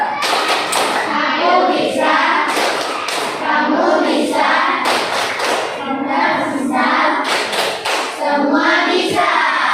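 A group of teachers and participants claps out a rhythmic chant in an Indonesian classroom workshop, loud bursts of patterned claps and thumps alternating with chanted voices in a repeating cadence.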